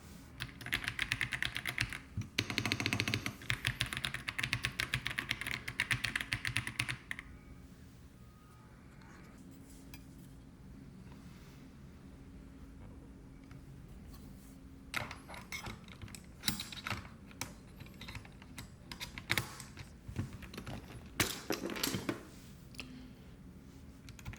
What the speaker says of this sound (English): This is a noise test for the AK A20 Pro, a keyboard I really like, but it's very clicky.